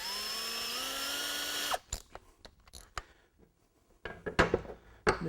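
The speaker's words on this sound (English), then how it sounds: "Now with the 1/8 inch pilot drill, we're going to pre-drill these holes." A power drill with a 1/8 inch bit whines steadily for a couple of seconds while pre-drilling pilot holes, then stops, followed by scattered clicks and knocks of handling tools.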